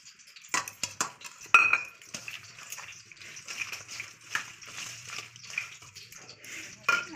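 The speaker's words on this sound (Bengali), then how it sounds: "এবার আমি মাছকিটা মেখে নেবো মশলা দিয়ে" Fish pieces are worked by hand with turmeric, salt, onion and ground spice paste in a bowl, giving close wet squishing and slapping, scattered clinks against the dish, and some soft handling noise.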